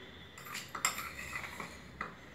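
A metal spoon clinks against a bowl while chickpeas are spooned into a fried potato basket snack, a few light, sharp taps spread over a couple of seconds against a quiet background.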